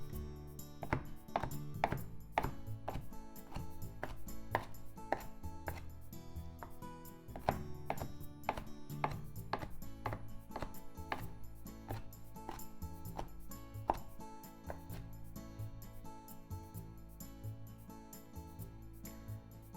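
A knife chops tempura shrimp into small pieces on a board, a steady run of sharp close taps and thunks spread over the whole stretch.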